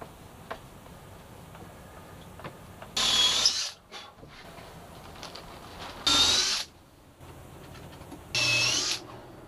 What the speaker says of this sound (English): Time to put some screws in.